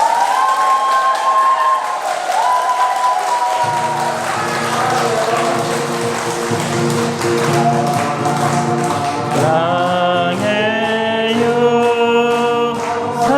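A large crowd claps and cheers loudly and continuously at a Catholic church prayer meeting, with sustained tonal music or singing rising over the applause in the second half.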